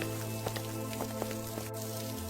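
Rain falls steadily in a village, with scattered droplet taps over a constant low hum.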